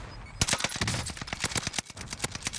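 Rapid automatic bursts from the NZ gun in a shooter video game, sharp repeated cracks in quick uneven volleys, loud and close.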